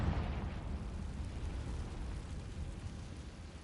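A Confringo blasting spell explodes in the video game Hogwarts Legacy, a deep rumbling boom that rolls on and fades over a few seconds, heavy in the low end with no voice over it.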